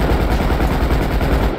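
Continuous rapid automatic gunfire from GTA V gameplay roars loud and dense for the whole moment, a steady machine-gun stream with no pauses.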